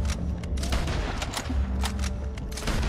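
Repeated gunshots in Red Dead Redemption 2, a dense string of loud cracks at an uneven rhythm over a busy, rumbling game soundscape, fired close by without anyone talking.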